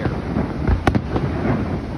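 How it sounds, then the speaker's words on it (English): Fireworks at a Niagara Falls show pop and crackle in a quick double burst amid heavy outdoor rumble and wind noise. "Fireworks are going, folks."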